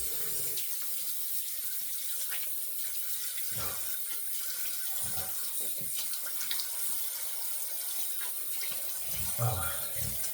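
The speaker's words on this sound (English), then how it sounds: "And we'll rinse the head real quick." Water runs steadily from a tap while a razor head is rinsed under it, an even splashing hiss with brief clinks and shifts as the head moves through the stream, close up.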